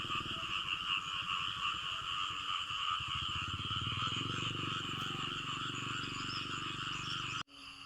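A dense chorus of frogs croaks continuously near flooded fields, with rapid rhythmic pulsing calls layered over high insect-like trilling, cutting off abruptly near the end.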